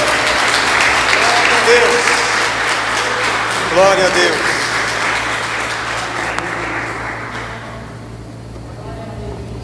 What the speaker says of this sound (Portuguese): Vamos aplaudir Jesus, amados